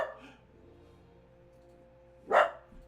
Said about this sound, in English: Charlie's barking is making my PNG tuber speak